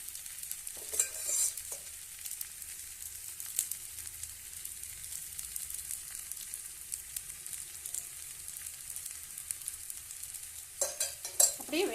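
Steady, gentle sizzling of plantain slices frying on a hot griddle, continuous throughout with a few faint scrapes near the start and end.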